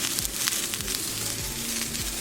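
Seasoned asparagus spears sizzle in a frying pan, a loud, steady close-up crackle with faint low thumps underneath, and no talking.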